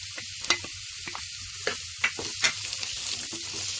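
Chicken frying with onions in a pan while being stirred, with a steady sizzle and repeated scraping stir strokes close up, with no talking.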